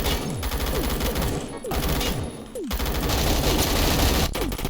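G36 assault rifle bursts in the Battlefield video game, loud rapid full-auto fire in several strings with short pauses, close and dense throughout.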